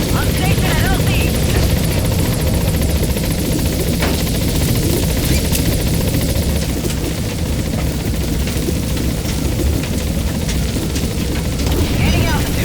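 Pequod, the transport helicopter in Metal Gear Solid V: The Phantom Pain, arrives at a landing zone with a loud, steady rotor roar and engine drone that holds throughout and buries the radio voices beneath it.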